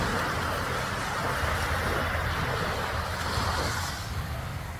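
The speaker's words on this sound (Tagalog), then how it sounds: "Tapos yung alon, nakaka-relax." Ocean waves washing onto a tropical beach after sunset, a steady broad roar of surf with some wind buffeting, close and continuous throughout.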